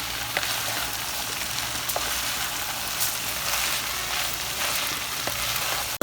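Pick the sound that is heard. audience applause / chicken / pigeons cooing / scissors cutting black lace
chicken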